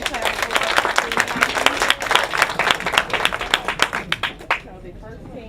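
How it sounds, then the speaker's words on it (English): Applause from an audience at an awards moment for a winning team in a project presentation event, a dense run of claps that tapers off near the end, with a brief spoken word. "Get some hand claps"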